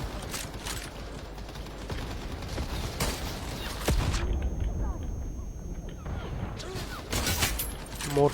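Gunfire from a newly picked-up gun in the online shooter CrossFire, bursts of sharp shots and a booming blast over game effects, with someone talking at times.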